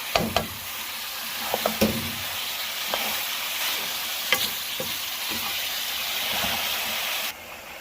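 Mutton stir-fried in a karahi for a big batch of about six kilos, a steady close sizzle with scattered scraping and clanking of the spoon against the pan, continuous and fairly loud, no talk.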